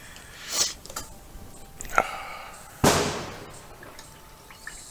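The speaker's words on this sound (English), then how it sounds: "There are fireworks." Fireworks go off outdoors, heard as a few sharp distant booms and crackles spaced apart, picked up faintly through an indoor microphone.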